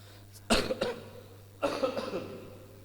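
Two sharp, close coughs about a second apart, each followed by a short raspy tail, in an otherwise quiet room.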